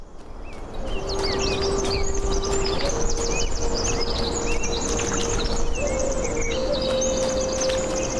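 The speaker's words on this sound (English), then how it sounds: "That bird is so loud." Birds chirp loudly and repeatedly in the video game The Talos Principle 2, bright twittering calls layered over a steady outdoor ambience with a sustained tone underneath and no talking.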